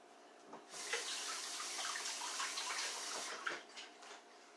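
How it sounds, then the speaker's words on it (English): Hands rinsed under a running kitchen tap while cooking, a steady splashing stream of water starting abruptly, running for a few seconds, then breaking up into splashes as the flow is interrupted. "Rinse my hands."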